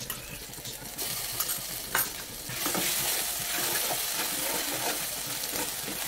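Garlic, dry red chili, bay leaf and panch phoron sputter in hot oil, a dense continuous sizzle that swells louder partway through, with a couple of spoon scrapes near the start and no talking.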